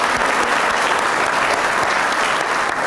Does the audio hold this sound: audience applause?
yes